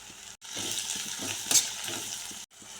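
Chopped onions fry in a pan for an amaranth greens stir-fry, a steady close sizzle with soft stirring scrapes and a single light clink of utensil on metal.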